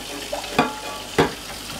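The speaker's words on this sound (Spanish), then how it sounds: "Ahora le paso un poquito de agua." Tap water runs over turkey breast pieces at a kitchen sink, a soft steady wash broken by two brief splashing surges.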